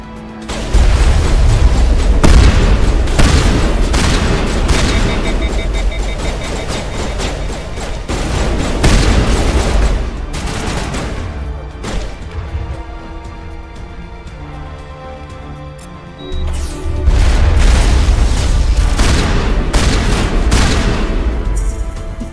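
Repeated loud blasts and booming explosions from enemies blown apart in the video game Mass Effect, dense and continuous with a brief lull before another heavy burst of fire and detonations.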